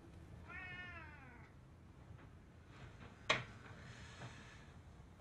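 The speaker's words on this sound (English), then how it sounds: "Be careful with that cat." A cat gives one drawn-out, wavering meow, fairly faint over a steady low background hum. A sharp click follows a couple of seconds later.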